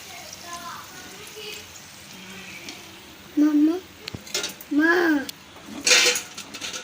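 Rice and potato snacks frying crisply in hot oil give a steady sizzling hiss, broken by loud clinks and scrapes of a metal utensil against the pan, with some voice-like sounds in the kitchen.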